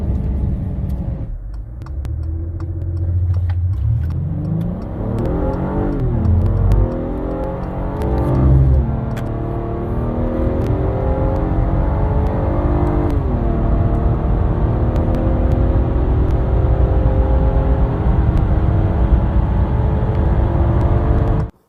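A car on stock OEM wheels makes a full-throttle 0-60 acceleration run in cold 37-degree air, its loud engine note climbing steadily in pitch and dropping briefly at each gear shift, heard close up throughout.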